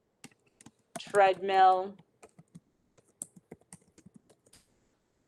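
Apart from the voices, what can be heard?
typing on a computer keyboard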